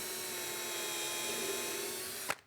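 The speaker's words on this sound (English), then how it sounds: "Use the existing screw holes to drill pilot holes into the third layer." A power drill whines steadily while boring pilot holes through stacked layers of a router table build, held close and continuous before a short sharp knock at the very end.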